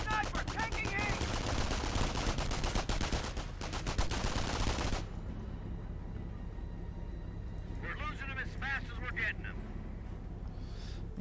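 MP40 submachine gun fire in Company of Heroes, with a dense, rapid rattle of automatic shots that stops abruptly and gives way to quieter, distant battle noise. A commentator talks throughout.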